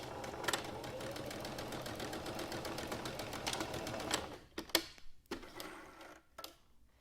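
A sewing machine runs steadily, stitching a fabric face mask, then stops and gives a few short separate bursts as the stitch is restarted near the end.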